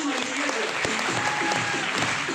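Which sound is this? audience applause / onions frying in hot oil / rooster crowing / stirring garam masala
audience applause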